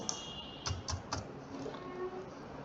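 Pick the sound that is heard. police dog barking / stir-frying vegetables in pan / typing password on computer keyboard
typing password on computer keyboard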